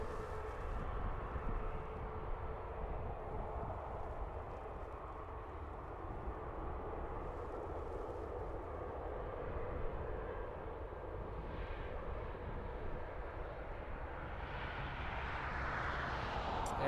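A jet airliner at Dublin Airport takes off along the runway, a steady distant broadband roar that holds level throughout with no talk over it.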